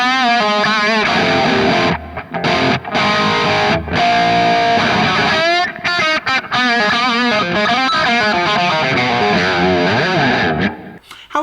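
Electric guitar played through a Kemper profile of a Sold 100 OD2 amp: a loud, distorted, scooped and bright modern tone with tight chugging riffs and sustained notes, broken by brief stops, with no talking.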